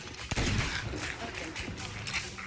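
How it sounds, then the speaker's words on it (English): Gunfire in the pirate video game Sea of Thieves, with a sharp close shot followed by a dense, loud burst of shooting and clatter that carries through the whole stretch, with another crack near the end. "I think I just shot over this one's shoulder and hit the other one."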